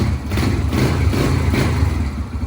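A Yamaha TTR125 dirt bike engine runs steadily with the choke off, a loud, close, low rumbling idle with a continuous throbbing pulse throughout.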